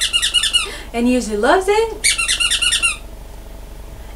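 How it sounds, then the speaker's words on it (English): A baby giraffe toy squeaks in quick repeated bursts, a rapid rubbery chirping that stops and then returns, loud and close, with someone speaking briefly between the runs of squeaks. "another toy that you don't want to keep close to your dogs because they think it's theirs, but it squeaks"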